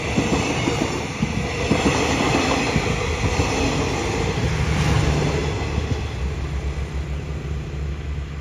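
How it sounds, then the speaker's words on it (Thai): Thaksinarat special express train 32, an air-conditioned sleeper running from Hat Yai Junction to Bangkok, rumbles steadily close by with continuous rail noise and a faint clatter of wheels for the whole stretch. "ด่วนพิเศษ ทักษิณารัตที่32 นะครับ ต้นทางชุมทางหาดใหญ่ ปลายทางกรุงเทพอภิวัฒน์นะครับ"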